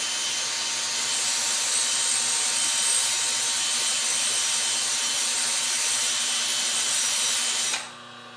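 Steady abrasive hiss of a high-speed steel drill blank turned in a cordless drill and pressed against a CBN grinding wheel, loud and continuous for nearly eight seconds before cutting off into a low hum.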